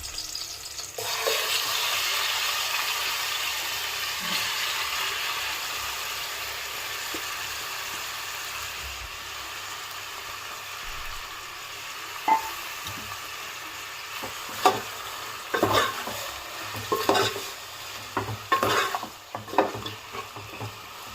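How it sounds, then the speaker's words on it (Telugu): Marinated chicken goes into hot oil over fried onions for Andhra-style dum biryani, a steady close sizzle that later turns into louder sputtering bursts and stirring scrapes. "ఇప్పుడు మనం మ్యాగ్నేట్ చేసుకున్న చికెన్ వేసుకుందామండి."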